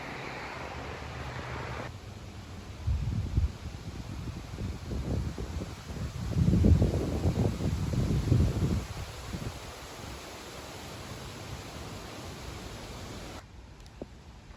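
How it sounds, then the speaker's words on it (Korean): Wind blows outdoors at the Austerlitz pyramid woods in the Netherlands, rushing and rumbling into the microphone in uneven gusts that swell strongest mid-way, then ease to a soft, steady hiss. "오늘 바람이 불고 그렇게 덥지 않아서"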